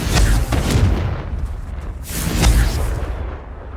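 Confringo explosion spells blasting in the game Hogwarts Legacy: two loud, booming bursts with deep low rumble, the second arriving about two seconds after the first and each fading away.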